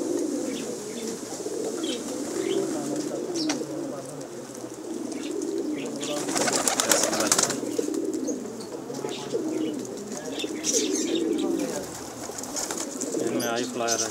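Fancy pigeons of many colours, some of them costly, coo steadily in a low murmur that fills the whole stretch, with scattered chirps and a brief flutter of wings, while people talk nearby.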